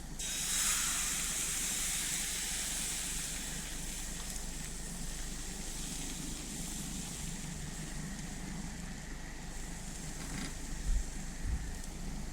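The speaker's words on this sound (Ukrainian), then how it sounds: "І починаю обсмажувати" Steady, quiet sizzling hiss of poppy-seed pancake batter frying in a hot oiled pan, continuous and close, with a couple of faint knocks near the end.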